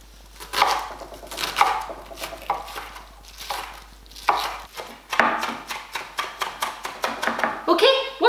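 A knife chops a red onion on a cutting board, quick close knocks coming in uneven bursts with short pauses between, loud and clear with no talk.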